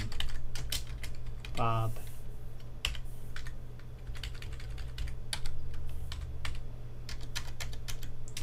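Rapid clattering keystrokes on a computer keyboard, close and continuous, with a voice briefly speaking a word over the typing.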